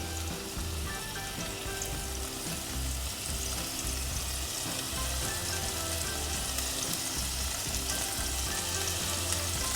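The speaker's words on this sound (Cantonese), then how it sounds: "我哋就可以輕輕煎香埋呢啲蝦，煎香咗佢先。" Shrimp pan-frying in a hot wok, a steady close sizzle with faint crackles running throughout, alone without talk.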